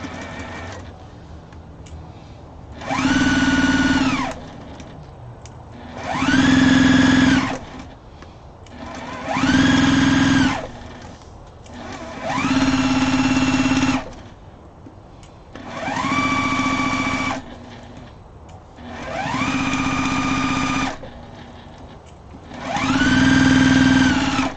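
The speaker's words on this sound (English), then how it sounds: "I'm going to sew this together right now to get rid of these pins here." A sewing machine stitches fabric placemats in about eight loud, steady bursts of whirring, each lasting a couple of seconds, separated by short pauses with no talking.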